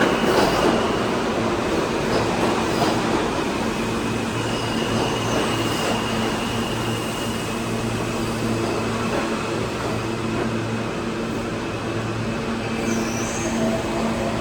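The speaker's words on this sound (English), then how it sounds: "At the same time, we have the M train." Continuous loud rumble of a New York City M subway train in Queens Plaza station, steady rolling noise with occasional clatter and a faint squeal near the end.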